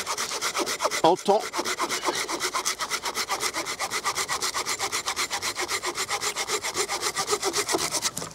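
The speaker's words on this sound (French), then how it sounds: "je vais le couper avec la scie Fiskars" A Fiskars hand saw cuts through a tree branch in a steady, rhythmic series of close wooden rasping strokes, about three per second, running continuously after a brief pause near the start.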